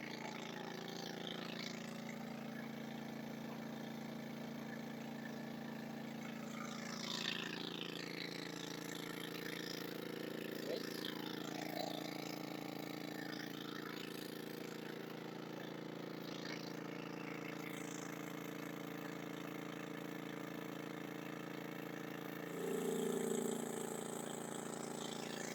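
Engine of an 8-inch gold dredge in Alaska running steadily, a constant mid-range drone with a strong hum, holding even throughout with a brief louder swell near the end.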